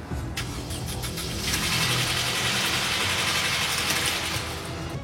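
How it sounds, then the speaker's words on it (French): A Mercedes SLK R171 engine starting and running at a steady idle, close by and fairly loud, with the sound swelling slightly partway through and settling into an even hum. "J'ai pu entendre un moteur qui tourne."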